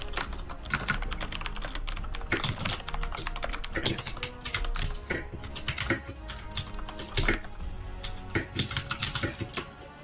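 Rapid clicky keyboard typing during a League of Legends tournament match, with dense bursts of keystrokes and louder clacks at an even, busy pace, alone and close.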